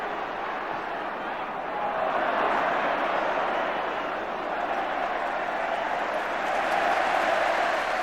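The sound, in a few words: applause from the Kop crowd for Gary Gillespie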